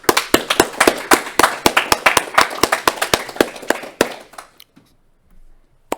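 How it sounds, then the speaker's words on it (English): A round of applause for game jam participants, fairly close and loud, with distinct individual claps over a busy patter that stops abruptly near the end, leaving near silence. "huge round of applause to everybody."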